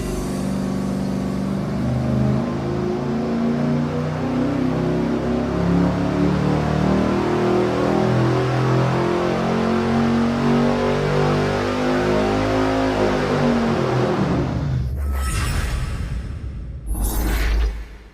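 A test engine on a dyno runs with the exhaust plug removed, creating a massive exhaust leak: a loud, sustained roar with rasping tones that drops away sharply near the end, followed by two short bursts.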